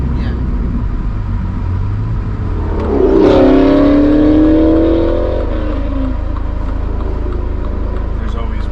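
A car with a sports catalytic converter exhaust revs up loud for a couple of seconds, a rising, droning engine note over steady idle rumble, with voices talking through the clip.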